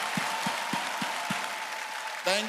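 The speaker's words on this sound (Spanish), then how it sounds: "Así que puedes aplaudir más a Jesús." Applause from a church congregation at a T. B. Joshua service, a steady wash of crowd clapping with a few deeper thumps. A voice breaks in at the very end.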